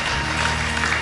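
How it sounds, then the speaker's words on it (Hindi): Studio audience applause on a Bhojpuri music competition show, a dense steady wash of clapping filling the whole short stretch over a low musical hum. "जोरदार ताली बजाई जा।"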